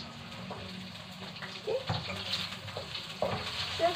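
Shallots and garlic fry in hot oil, a steady close hiss and sizzle with occasional stirring clinks and bubbling, swelling slightly louder as more goes into the pan.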